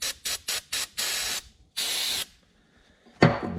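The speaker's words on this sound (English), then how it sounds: "We'll wash it with a brake clean" Brake cleaner sprays onto articulated dump truck driveshaft parts in short hissing bursts, first four quick squirts, then two longer sprays, followed by a sharp clatter. Everything is loud and close, with no voices.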